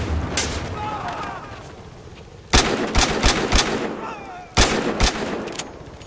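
Gunfire and RPG blasts in the Battlefield Hardline shooter game: loud sharp shots and booming explosions burst in two clusters, near and punchy, over a steady game background.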